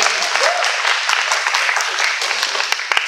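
Sustained audience applause fills a conference panel session at SEAMconference 2016, a dense, steady wash of many hands clapping from start to finish, loud and close with no break.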